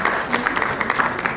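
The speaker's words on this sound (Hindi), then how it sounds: "तालियों की गड़गड़ाहट" Applause at a book event in Jaipur: steady clapping from an audience, dense and close throughout.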